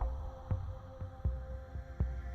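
A slow, deep heartbeat plays for an earth heartbeat meditation, soft evenly spaced thumps in pairs over a steady low hum, with no talking.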